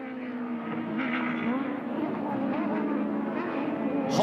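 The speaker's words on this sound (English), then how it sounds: "High revving 4-cylinder engines back down through the gearbox." High-revving four-cylinder race car engines in a Repco NextGen NZ race at the New Zealand Grand Prix, heard as continuous engine tone with shifting pitch from downshifts, fairly near and steady, with faint commentary underneath.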